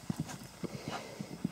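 Horse cantering during a riding lesson, hooves striking the ground in a quick, regular rhythm of paired thuds, close and clear with no talk over them.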